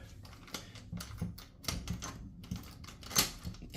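A few sharp mechanical clicks and clacks, close by, as a lock is worked and snaps shut, with small handling noises between.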